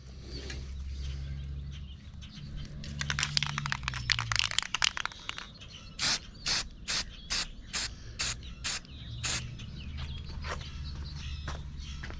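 An aerosol can sprays paint onto the front suspension parts of a 1930 Ford Model A, first in a longer stretch of hissing, then in a row of about eight short, evenly spaced bursts, close and clear with no talking.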